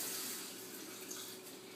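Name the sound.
water running while rinsing aquarium rocks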